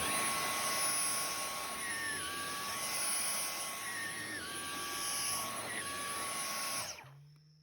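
Dyson V10 Animal cordless vacuum cleaner running in handheld mode, a steady high whine with a sustained motor tone held evenly for about seven seconds before cutting off abruptly.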